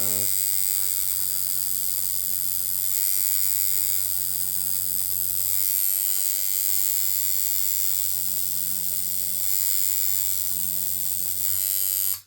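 A handmade tattoo machine buzzes steadily as it works into a grapefruit, a close, constant electric drone with faint rhythmic pulsing, heard alone with no talking.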